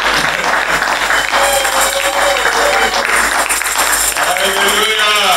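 Audience applause at a French-language church gathering, steady dense clapping that runs throughout, with voices and faint tonal sounds mixed underneath.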